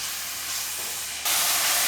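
Two finely chopped medium onions frying in a pan give a steady close hiss, which jumps suddenly louder and brighter partway through as they hit fresh heat.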